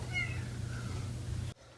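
A short, faint cat meow over a low steady hum, ending abruptly.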